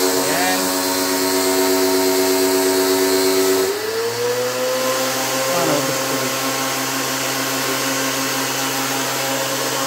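A pressure washer and foam sprayer run at a coin-operated Arclem 3-in-1 car wash, a loud steady motor whine with tonal hum that shifts pitch partway through as the machine changes mode, continuous throughout.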